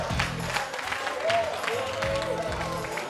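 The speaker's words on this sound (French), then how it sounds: "Mais applaudissez la fille." Audience applause on the French TV show Le Vrai Match, a soft, steady patter of clapping beneath a presenter's voice and other talk that carries through the whole stretch.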